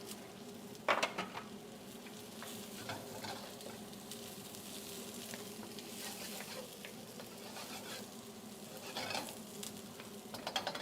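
Onions sizzle steadily in a hot pan while being stirred, with scraping strokes and a couple of brief louder clatters of utensil against the pan, all fairly close and free of talk.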